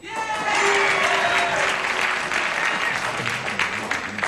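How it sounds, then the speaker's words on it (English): A studio audience at a 1977 television game show applauds loudly and steadily, with one person booing among them. The clapping stays dense and close throughout. "One dummy is booing, everybody else is applauding"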